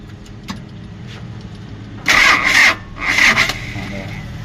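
A small engine, its ground wire from the engine not attached to the body, cranks in two short, loud, rough bursts with a brief pause between, failing to start each time over a quiet background.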